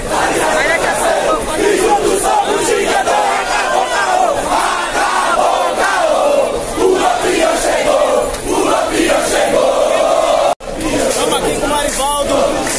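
Football fans chanting and cheering for Diego Souza's arrival, a loud, dense crowd roaring continuously from close by, with voices rising and falling in rhythmic chants.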